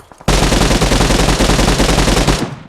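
A newly added gun firing in the PUBG Mobile video game, one loud sustained burst of rapid automatic fire lasting over two seconds, close and alone.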